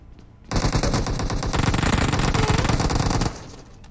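Rapid automatic gunfire in the battle royale game PUBG sounds as a bot is shot by enemies. A dense, loud burst of repeated shots runs for about three seconds, then cuts off abruptly.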